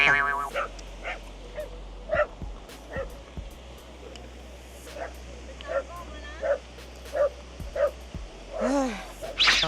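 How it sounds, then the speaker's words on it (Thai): Small dog yapping in a series of short, sharp barks spread across the stretch, moderately close, outdoors near a castle in Scotland while people talk intermittently. "น้องหมามันก็เห่าแล้ว"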